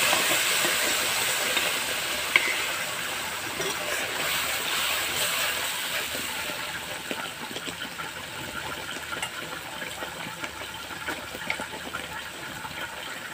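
Mustard paste and green chili paste hit hot oil in a Bengali kitchen, giving a steady, moderately loud hissing sizzle that slowly eases over several seconds, with no talking.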